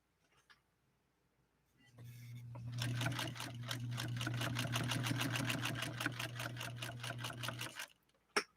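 A White Rotary sewing machine stitches through two layers of saddle-grade leather, starting with a motor hum and then running a fast, even, close rattle of needle strokes for about five seconds before stopping.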